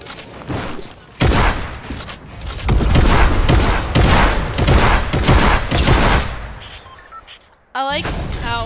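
Video game gunfire rattles in loud, dense overlapping volleys and blasts lasting several seconds, then drops away before a short electronic burst, with a voice talking over the shooting.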